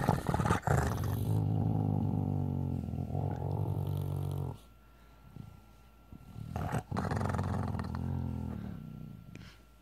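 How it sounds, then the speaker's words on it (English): A female dog refusing to get up growls in long, low, rumbling bursts, loud and close, with a quiet pause between two stretches of growling. "Bad girl. No growling."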